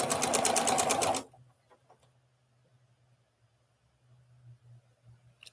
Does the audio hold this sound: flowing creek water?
no